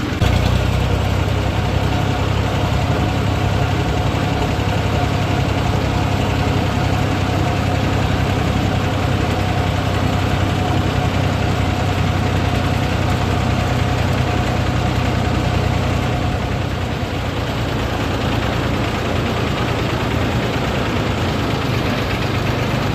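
A new tractor's engine idles steadily for the whole stretch, a loud, even low rumble with a faint knocking texture and no talking.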